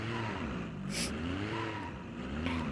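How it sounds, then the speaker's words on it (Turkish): A car engine idles and hums steadily in BeamNG.drive, a low droning tone that wavers slightly in pitch, with a brief hiss of higher noise near the start and again near the end. "Ama motor çalışıyor."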